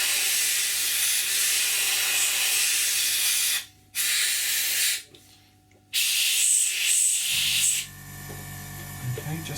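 An airbrush hisses steadily as it sprays paint onto an Academy F-16I Sufa scale model kit, close and loud in long bursts broken by short pauses, ending in a quieter, lower hum.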